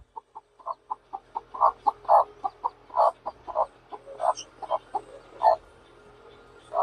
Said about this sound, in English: Got some baby peeps.